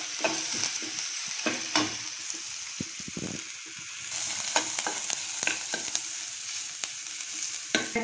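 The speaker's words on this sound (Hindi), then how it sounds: "हमने खड़े गरम मसाले रखे थे इसे डाल देंगे, इसे भी थोड़ा सा सेक लेंगे अच्छे से।" Whole garam masala sizzles in a pan with a soft, steady crackle. Short stirring scrapes and taps come at intervals, and the frying is fairly quiet with no voices.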